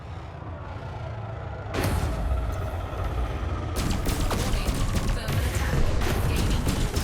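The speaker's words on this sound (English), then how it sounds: "I've just hit him with another cannon" Ship cannon fire in the Elite Dangerous space game, a dense rumbling barrage that swells after a quieter start, with repeated heavy bursts and crackling impacts, a voice speaking over it.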